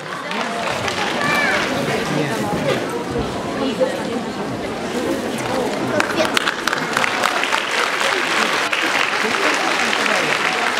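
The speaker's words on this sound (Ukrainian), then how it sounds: "Оплески!" Audience applause at a show-group performance, dense clapping filling the whole stretch with crowd chatter and voices mixed in, growing more rhythmic and punchy toward the end.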